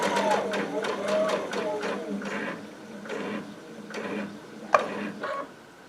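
Baby Lock Altair sewing machine stitching quilt binding, a series of quick mechanical stitching bursts with pauses and a sharp click near the end, fairly quiet and close.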